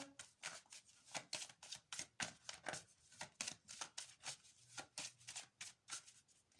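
Tarot cards being shuffled and drawn for a horoscope reading, a quick series of crisp riffling, slapping bursts in an irregular rhythm, close and clear with no talking.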